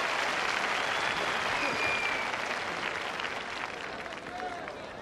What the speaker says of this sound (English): Little applause, please, for him.